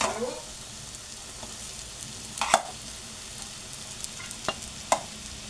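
Rice being stirred into fried masala in a pan for potato rice, with a soft continuous sizzle and a few sharp spoon scrapes and knocks against the pan.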